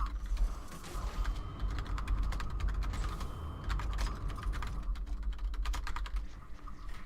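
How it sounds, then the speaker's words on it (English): Rapid computer keyboard typing clatters continuously and close up, dense rattling keystrokes layered over a low game background rumble, with no talking. "Why am I still typing?"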